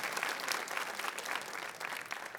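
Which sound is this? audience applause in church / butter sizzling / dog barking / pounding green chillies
audience applause in church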